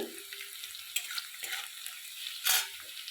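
Onions frying in a pan for a vegetarian curry, a steady sizzle broken by several scraping stirs of a spoon, one louder stir near the end, close and without talk.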